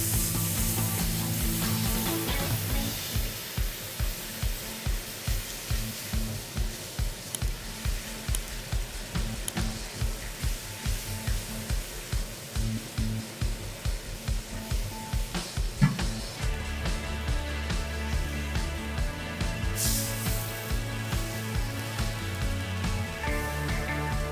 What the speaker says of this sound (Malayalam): നമുക്കിതിലേക്ക് ചൂട് പാൽ കുറേശ്ശെ ഒഴിച്ചിട്ട് ഇളക്കിക്കൊണ്ടിരിക്കുക